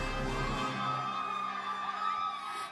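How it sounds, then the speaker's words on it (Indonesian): Audience applauding and cheering for a finalist at the 2025 Duta Wisata Kota Makassar tourism ambassador pageant, a steady loud wash of crowd noise with whoops and shouts throughout, no clear talk. "Tepuk tangan dulu untuk finalis dengan nomor urut"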